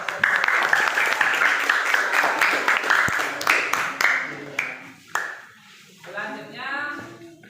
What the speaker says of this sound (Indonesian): Kita kasih aplaus untuk kelompok kinestetik.